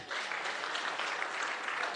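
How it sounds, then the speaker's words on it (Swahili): An event crowd in Eldoret claps for a committee, a dense continuous applause from many hands that holds even and fairly loud throughout. "Simpigie makofi hii committee."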